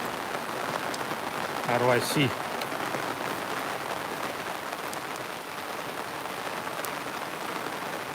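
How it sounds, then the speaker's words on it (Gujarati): Steady rain hisses across the whole stretch, with a brief voice breaking in near the start before the downpour continues alone. "વરસાદ ચાલુ છે"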